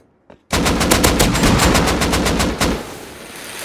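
Rapid automatic gunfire in the video game Fortnite, a loud close burst of about two seconds with evenly spaced shots that cuts off abruptly, a single faint shot just before it.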